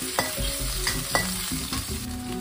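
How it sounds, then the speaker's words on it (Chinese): Pork stir-fried in a wok with scallion and ginger, a steady loud sizzle broken by sharp scrapes and clanks of the spatula against the pan. "你看这肉一炒出来，小样儿炒的招人稀罕"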